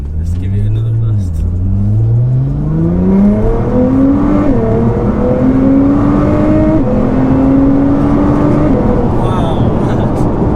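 A 700bhp Nissan GTR accelerating hard from inside the cabin, its engine note climbing steadily through rising gear pulls with brief dips at each shift, loud and continuous over the whole stretch with road roar underneath.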